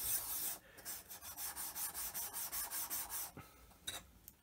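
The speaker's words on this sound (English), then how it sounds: "And then I'm just deburring it." A cast iron straightedge rubbed back and forth on an India stone to deburr it, a steady rhythm of about a dozen gritty scraping strokes, close and alone, ending with a few lighter rubs.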